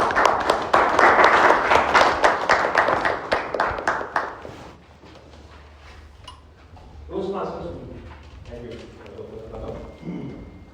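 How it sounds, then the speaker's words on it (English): An audience at a Toastmasters club session applauds to welcome a speaker, a dense burst of clapping that fades out after about four seconds, followed by someone talking. "So with a round of applause,"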